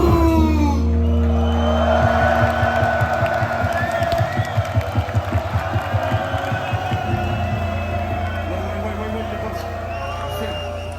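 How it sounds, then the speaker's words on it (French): A concert crowd at La Cigale cheers and claps for a rap performance, a loud roar of voices with rhythmic clapping in the middle and a low musical hum underneath. "Les gars, applaudissez-vous, c'est incroyable."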